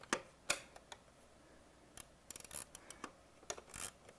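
An Allen wrench is worked into a robot's fuel mechanism, giving faint, scattered metallic clicks and scrapes. The ticks come in short irregular bursts separated by quiet gaps.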